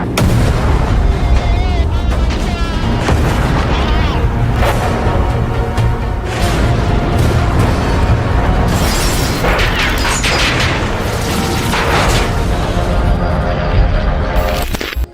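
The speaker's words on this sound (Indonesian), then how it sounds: "mereka langsung disambut dengan tembakan senjata anti pesawat Jerman yang merupakan logam panas yang mudah" German anti-aircraft guns firing with flak bursting, a loud, continuous barrage of booming shots and explosions that layer into a dense roar throughout.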